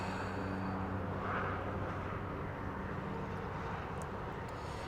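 A DJI Mini 2 drone flies outdoors, giving a steady, loud, continuous buzzing whine that holds evenly from start to finish with no other sounds over it.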